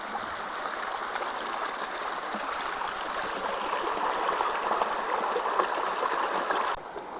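Gravel swirls in water in a gold pan at Tyndrum, Scotland, giving a continuous rushing, trickling wash at steady loudness that cuts off abruptly near the end.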